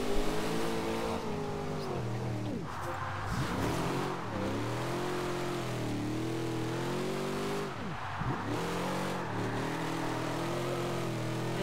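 A 1970 Camaro Z28 engine in Forza Horizon 2 drones loudly and steadily, dipping sharply twice as revs drop and climb back while driving, with no talking.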